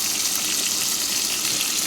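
Onion, ground tomato and dried red chilli sauté in a pan with a steady, close hiss and sizzle, a continuous sound like rushing water that holds without a break and with no talk.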